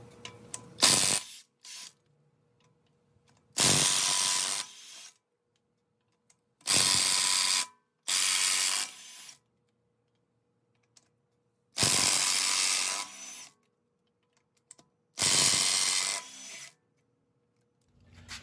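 A ratchet with a taped 21mm socket loosens the lug nuts on a Tesla Model S wheel in six short, sharp bursts of rapid clicking, separated by quiet pauses.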